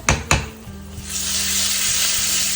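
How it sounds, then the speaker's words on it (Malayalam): Spices tempering in hot oil for kai vattan, a raw banana dish, crackle with two sharp pops at the start before settling into a steady, bright, close sizzle that carries on throughout. "വറവിടുക."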